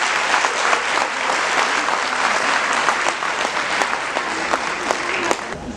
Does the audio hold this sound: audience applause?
yes